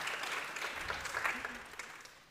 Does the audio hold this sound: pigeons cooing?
no